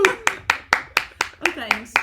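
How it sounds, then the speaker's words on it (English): One person clapping by hand, nine sharp claps in a steady, fairly quick rhythm, close and clear, with a voice murmuring faintly beneath them. "I feel like I'm the only one clapping"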